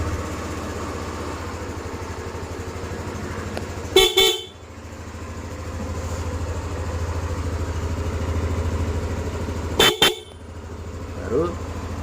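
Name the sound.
car horn fitted on scooter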